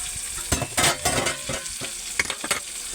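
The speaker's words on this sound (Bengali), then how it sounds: "ঢাকনাটা খুলে আবার নাড়িয়ে দেবো।" Teasel gourd (kakrol) fries in a pan while a utensil stirs it, giving a close sizzle broken by irregular scraping strokes and light knocks against the pan.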